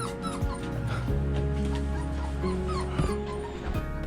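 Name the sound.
puppy whimpering and yipping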